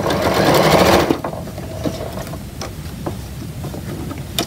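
A sewing machine stitches quilt pieces in a fast, steady whir for about a second, then slows to softer intermittent needle clatter and fabric handling.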